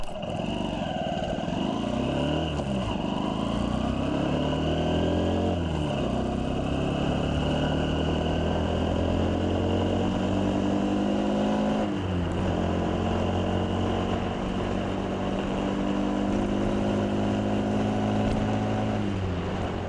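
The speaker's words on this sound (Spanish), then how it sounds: "Vamos a empezar con la manera de salir en parado con esta moto." A Honda CB 125 F motorcycle engine revs and pulls away from a standstill, climbing in pitch through several gear changes, loud and continuous, with wind noise rushing over it.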